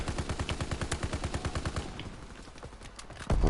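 Rapid automatic gunfire in Call of Duty: WWII, a steady burst of evenly spaced shots for about two seconds, then scattered quieter sounds before a sharp loud blast at the end.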